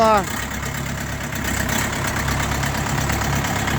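An Orion JD404 tractor engine idles steadily at close range, a low, even rumble that holds for a few seconds.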